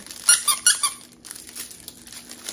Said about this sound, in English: I love squeaky toys as a dog owner